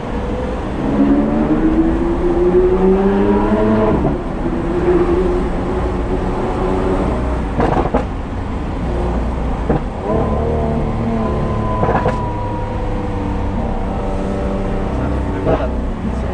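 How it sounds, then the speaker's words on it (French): A Lamborghini Aventador S V12 engine revs, its tone climbing and surging loudly up close before settling to a lower rumble with a few sharp pops. Voices talk over parts of it. "la sonorité du V12, c'est un truc de fou"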